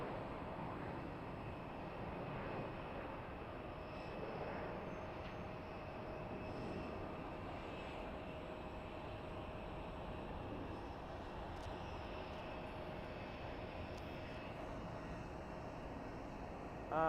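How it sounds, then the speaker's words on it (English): An American Airlines CRJ 700 jet airliner at Boise Airport gives a steady, distant rumbling roar that holds evenly throughout, faint and alone. "this is that American Airlines CRJ 700 going to Phoenix Sky Harbor"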